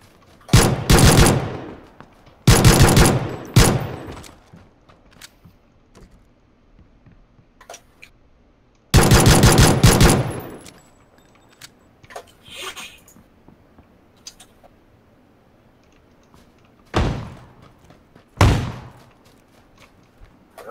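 M416 assault rifle fire in a shooting video game, several loud, close bursts of rapid automatic shots separated by quieter gaps with faint clicks and ticks.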